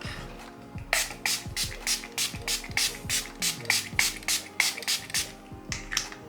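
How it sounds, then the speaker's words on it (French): A two-phase makeup setting spray misted in a long run of short, evenly spaced hissing pumps, close and fairly loud, about two per second, with a brief gap near the end. "Je vais fixer mon maquillage avec le spray fixateur biphasé."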